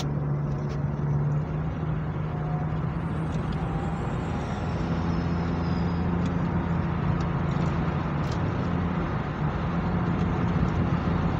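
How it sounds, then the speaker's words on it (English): A car drives along a road from Kingston, heard from inside as a steady, continuous engine and road rumble without pauses, with no one talking. "Guys, we've been driving, coming from Kingston"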